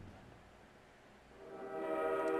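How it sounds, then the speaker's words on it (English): In the Team Fortress 2 map Doublecross, a train horn blares as the train comes out of a tunnel. A quiet rumble swells into a loud, sustained tonal blast over the last second. "So, train horn, you can hear that."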